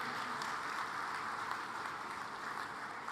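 Sustained crowd applause at a political rally in Panipat, a steady dense wash of clapping holding level throughout without pause, fairly distant and with no one speaking over it.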